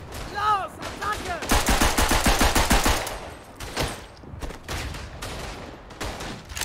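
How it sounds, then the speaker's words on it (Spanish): Bursts of machine pistol fire in the WWI trench shooter Verdun, rapid close shots in clusters followed by scattered further shots, with brief voice-like sounds at the start. "La machine pistole."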